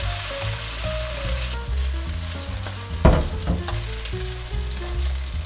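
A Taiwanese countryside-style carrot pancake fries in a lightly oiled pan, giving a continuous close sizzle with a brief louder crackle near the middle, all under a melodic musical backing.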